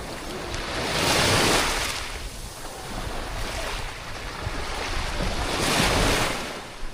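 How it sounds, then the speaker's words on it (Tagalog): Sea waves at Tuhian Beach rolling in and washing ashore, two louder surges rising and falling over steady surf hiss with some wind against the microphone. "Ayun na yung dagat oh."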